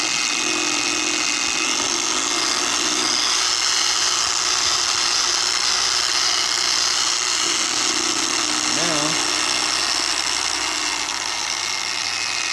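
A Grit Guard Universal Pad Washer spins at high speed with a steady, continuous motor whine and buzz throughout, close and loud, without pause.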